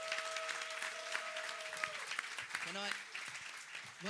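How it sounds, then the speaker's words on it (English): Applause from a conference crowd for a panel, steady and sustained throughout, with a few brief tonal sounds and voices mixed in near the end. "Can we get a big round of applause for our fantastic panelists?"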